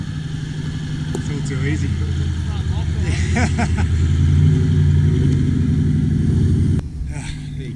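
A four-wheel drive with lockers climbing a steep off-road track in the Victorian High Country growls under load, its engine revving and rumbling loudly for several seconds before cutting back abruptly, while someone talks over it.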